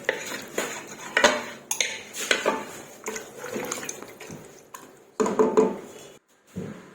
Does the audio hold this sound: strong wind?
no